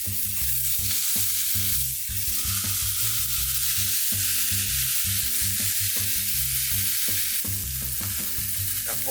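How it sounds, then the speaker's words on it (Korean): Pork for yakibuta sears in a hot pan, giving a steady, loud, close sizzle that runs unbroken throughout over rhythmic background music. "이제 팬을 달궈주시고 그 위에 고기를 부어줍니다"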